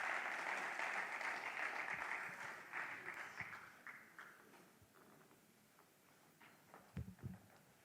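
An audience at the Trophée Mukendi Mbayi award ceremony gives faint, distant applause that starts as a broad patter and gradually thins and fades into scattered claps near the end.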